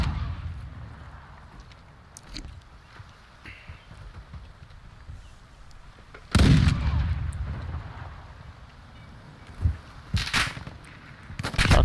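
Gunfire during a hostage rescue in the DMZ video game: a few scattered, fairly distant shots early on, then a loud heavy blast followed by more sharp bursts of shots.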